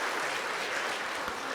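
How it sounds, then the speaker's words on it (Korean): A church congregation at an early-morning prayer service claps for the children, a brief, dense burst of applause filling the room. "거기 나오는 어린아이들을 위해서도 박수 한번 좀 해드리겠습니다"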